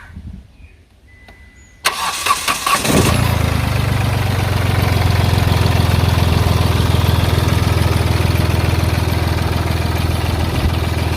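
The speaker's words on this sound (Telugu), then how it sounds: "ఒకసారి ఇంజిన్ సౌండ్ ఎలా ఉందో ఒకసారి అయితే చూద్దాం." A Hyundai i10 car engine cranks and starts after about two seconds of quiet, then settles into a loud, steady idle close by that continues to the end, with no talk.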